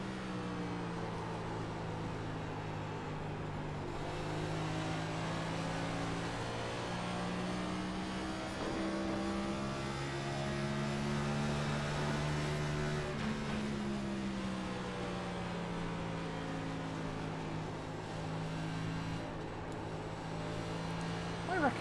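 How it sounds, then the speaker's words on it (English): A NASCAR Cup car engine revs high at Phoenix in the sim-racing game iRacing, a continuous droning whine rising and falling through gear changes, steady and loud from the cockpit for the whole stretch. "that engine just sounded to be revving incredibly high"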